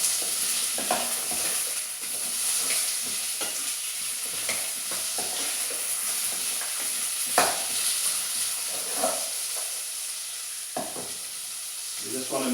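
Celery and onion sizzle steadily in a frying pan, close and constant, with occasional stirring scrapes and clicks of a utensil throughout; no speech.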